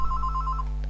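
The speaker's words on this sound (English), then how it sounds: "hang on, phone going off." A telephone rings with a rapid, warbling electronic trill that pulses steadily, then breaks off briefly before starting again, clear and close with no talk.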